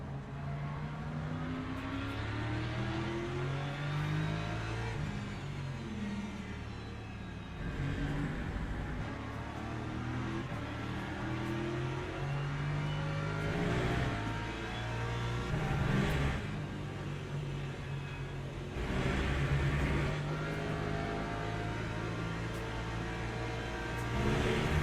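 Several GT3 race cars in the Le Mans Ultimate sim racing game roar around the track during an online championship race, engines droning and revving in overlapping waves as cars pass nearby, steady and fairly loud with no talking.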